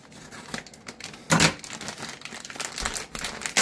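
Scissors snip through packaging in a kitchen during pizza prep, giving a few crinkly plastic cuts and rustles with one louder crunch partway through, close and fairly quiet.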